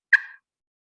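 A single short turkey cluck from a hunting call, one sharp close note fading quickly, alone with no talk.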